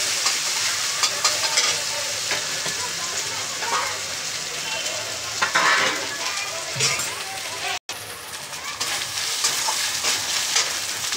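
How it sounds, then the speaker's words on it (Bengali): Mutton fries in a pan with a loud, continuous sizzle and repeated stirring scrapes throughout, with one brief cutout in the sound partway through. "একটু নাড়াচাড়া করে আমি ভাজা ভাজা হয়ে গেলে তারপরে আমি টমেটো ঢালবো।"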